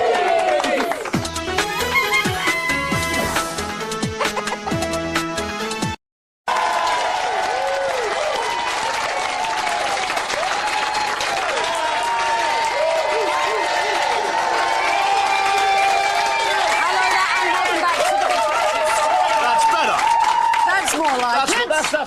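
A studio audience on a breakfast TV show bursts into sustained applause and cheering, broken by a short silent cut and then continuing loudly without a pause.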